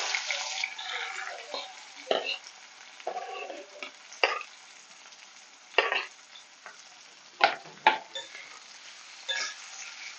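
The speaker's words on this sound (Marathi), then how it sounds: "तेल तापलंय आता आपण सर्वप्रथम कांदे टाकून घेऊया" Onions dropped into hot oil, a bright sizzle with bursts of stirring and scraping at irregular intervals, close and fairly clear, with no talking.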